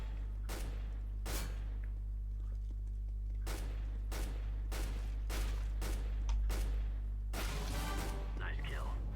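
Gunfire in the video game CS:GO, a run of sharp, evenly spaced shots in short bursts over a constant low hum, followed by a denser clattering volley near the end.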